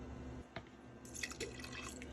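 Water pours into a cooking pot for making rice, a faint, brief trickle with a few soft splashes and drips over a quiet background.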